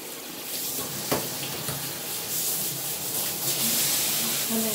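Water runs steadily from a tap into a bath as a pet hedgehog is rinsed, a soft continuous hiss and splash with a few brief knocks, fairly quiet and close.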